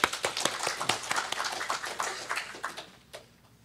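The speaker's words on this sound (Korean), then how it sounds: "우리 힘찬 격려의 박수 부탁드립니다." A church congregation claps in welcome as a speaker comes forward, a brisk run of distinct hand claps that thins out and fades toward the end.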